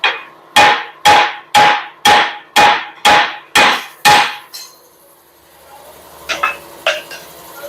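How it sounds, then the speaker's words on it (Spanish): Eight sharp metallic hammer blows struck in a steady rhythm on the king pin of a Nissan MT3000 front axle, loud and close, followed by quieter clatter and a couple of lighter knocks. "Aplico martillo."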